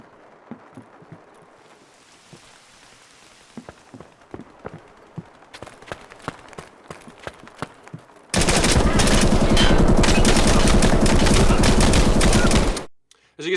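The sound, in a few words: VSS rifle gunfire in the video game Escape From Tarkov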